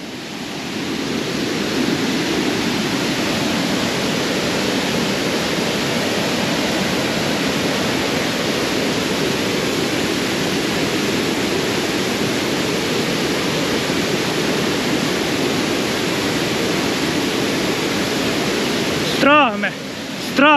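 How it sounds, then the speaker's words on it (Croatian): A waterfall at Janjske Otoke near Šipovo roars up close as a dense, unbroken rush of falling water filling the whole stretch, with a brief handling noise near the end. "Evo ovdje izgleda da je glavna zona za vodopad."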